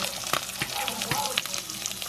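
An egg fries in a pan for topping a burger, a close, steady crackling sizzle with sharp pops and spatters running throughout, plus a few light clicks of a utensil against the pan.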